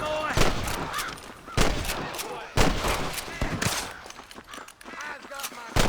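Gunshots in Red Dead Redemption, a run of sharp, loud cracks fired at irregular intervals, some in quick pairs, spread across the stretch with voices talking between them.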